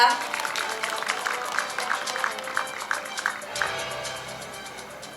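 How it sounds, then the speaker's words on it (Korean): Audience at a groundbreaking ceremony for the Incheon Line 1 subway extension to Geomdan New Town applauds a National Assembly member taking the stage, sustained clapping from many hands that fades after a few seconds, with a voice over it. "여러분 신동근 국회의원님께 큰 박수 부탁드립니다."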